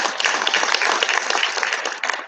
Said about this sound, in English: So let's clap for CBK and CBK management.